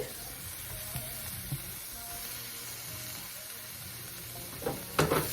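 Onion and garlic fry in oil in a pan with a soft, steady sizzle close by, a few light utensil clicks, and a brief burst of louder crackling near the end.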